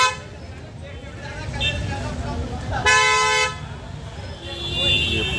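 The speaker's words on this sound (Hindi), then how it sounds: "देखिए, ये रोड पे ट्रैफिक चल रही है" Busy road traffic passing outside a street food stall, with vehicle horns tooting and engines droning close by under continuous crowd chatter and talk.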